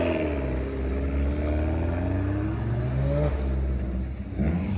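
A car leaving the Flowing Spring classic car and bike breakfast meet, its engine revving and climbing through the gears with a throaty, rising drone close by, no talking.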